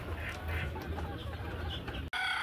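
Desi hens and chicks cluck on a poultry farm, a steady low chatter of fowl sounds close by, with a sharp break near the end before the clucking resumes.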